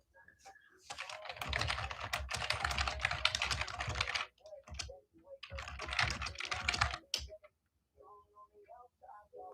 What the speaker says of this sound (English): Oh, typing sounds. You like that?